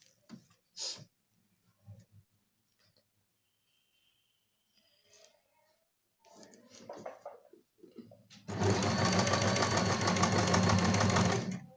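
A sewing machine stitches along the edges of a long gown, a loud, steady mechanical whirr that kicks in late after quiet handling noises and soft speech.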